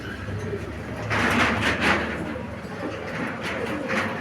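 Pigeons in a loft coo softly and repeatedly at close range, with low rumbling murmurs over a quiet background.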